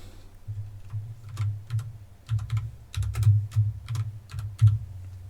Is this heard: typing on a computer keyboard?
yes